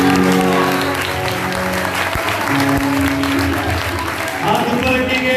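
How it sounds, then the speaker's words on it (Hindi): At a healing prayer gathering, the crowd gives loud, sustained clapping for a church brother, steady and dense for several seconds, with some voices and cheers mixed in. "ब्रदर रहील के लिए जोरदार तालियां।"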